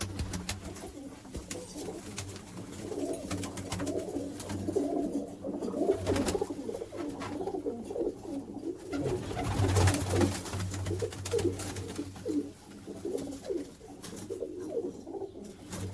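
Pigeons coo continuously in soft, low, rolling calls, several birds overlapping at close range with a steady murmur of background noise.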